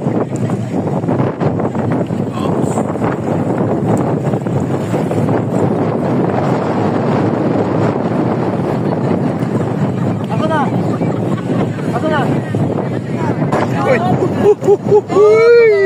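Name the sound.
strong river current rushing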